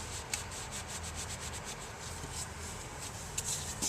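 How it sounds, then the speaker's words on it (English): A rag rubs back and forth over the transmission pan of a Jeep Grand Cherokee 4.7 V8, wiping away transmission fluid in a steady, soft, close scuffing with a few faint ticks. "kind of wipe it off a little"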